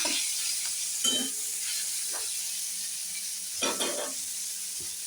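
Pointed gourd pieces sizzle steadily in a hot pan while a utensil scrapes and stirs several times, with no talking.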